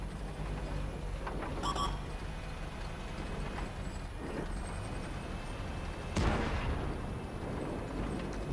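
World of Tanks battle with tier 9 heavy tanks including an E75 and Object 257, where a tank cannon fires with a single sharp boom that rolls out over a steady engine rumble and faint game noise.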